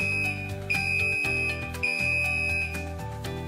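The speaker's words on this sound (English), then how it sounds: "An alarm is activated." The alarm of a Dositec chemical injection system beeps in repeated electronic tones, loud and close, with a sustained high pitch that breaks off and restarts several times over a low drone.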